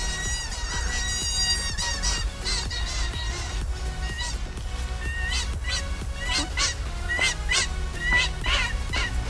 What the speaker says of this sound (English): Lovely birds.